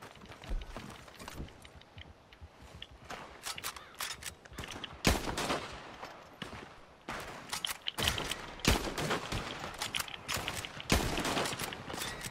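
Gunfire from Red Dead Redemption 2 in a shootout at Van Horne, with scattered sharp shots and rapid bursts at irregular intervals, some close and loud, some quieter, and no voices.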